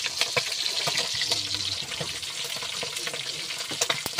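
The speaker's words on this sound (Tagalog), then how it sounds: "piprito pa rin tayo na tuluyan dito" Fish, bisugo, sizzling and crackling steadily in hot oil, a continuous spitting hiss with scattered pops close by, no talking.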